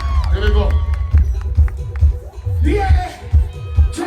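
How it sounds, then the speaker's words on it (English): A crowd at the CARIFESTA XV closing ceremony in Barbados cheers and claps in bursts, with shouts rising and falling, while people talk loudly over the noise close by. "Give them a round of applause."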